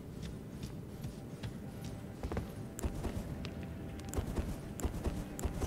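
A horse's hooves clip-clop in the video game Elden Ring, a quick irregular patter of light hoof strikes over a low rumbling background, close and continuous without talk.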